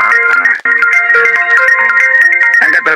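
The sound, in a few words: phone ringtone ringing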